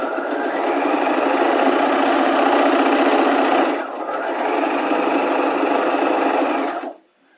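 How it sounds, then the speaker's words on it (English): A sewing machine runs steadily, stay stitching a seam allowance a quarter inch from the edge for a turn-and-stitch clean finish, a loud close whirring drone with a brief dip midway before stopping. "I'm now going to go and stay stitch this at 1/4 inch from the edge here."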